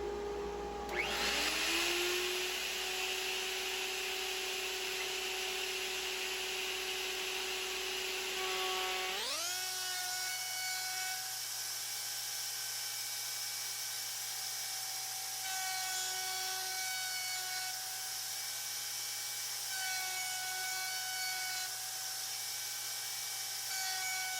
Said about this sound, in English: Got my router table set up. I got a 1/4 round bit in here, and I'm just gonna round over all these edges